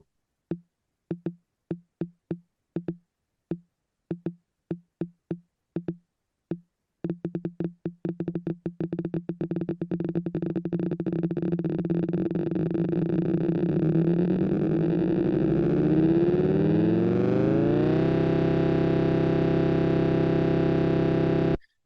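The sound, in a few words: rapid clicks merging into a major third chord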